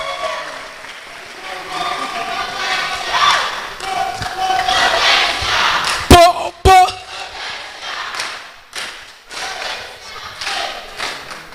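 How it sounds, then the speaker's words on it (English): A large conference crowd claps, cheers and shouts for a woman being honoured, swelling applause with loud thuds and calls mixed with a speaker talking over it. "Clap for Counselor Efwa."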